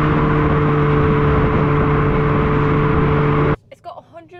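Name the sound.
Abarth 500e electric car fake exhaust sound accelerating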